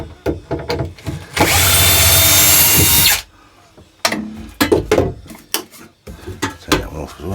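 A power drill whirs loudly in one sustained burst while backing screws out of aft cabin shower bay panels on an Ocean Pirate 61 boat, followed by clattering of screws and tools nearby.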